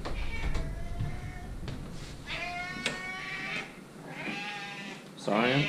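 A hungry house cat meows repeatedly, with several drawn-out, rising calls spread across the moment at close range, mixed with a low rumble and a person talking.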